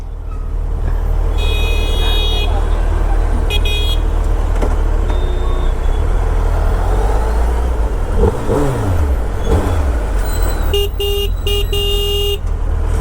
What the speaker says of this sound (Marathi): कसली ट्रॅफिक लागली बघा ना काहीच.